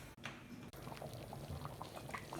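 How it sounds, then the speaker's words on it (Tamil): Lentil and coconut kootu simmers in a pot, a soft steady bubbling and popping that stays faint and close with no talk over it. "கொஞ்சம் கொதி வரட்டும்."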